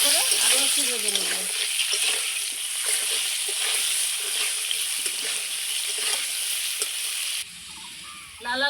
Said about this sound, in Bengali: এবার হলুদ লবণ দিয়ে খুব সুন্দর করে আরও একটু ভেজে নেব।